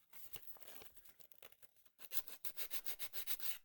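Sandpaper scrubs against a rounded cosplay mask in quick, rhythmic strokes. The scratchy rubbing is close, comes in bursts, and turns faster and more regular in the second half. No one speaks.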